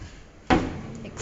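A sliding door on a kitchen pantry in a renovated small townhouse kitchen gives one sudden, fairly loud rumbling slide at about the midpoint, then fades into a low, steady room tone.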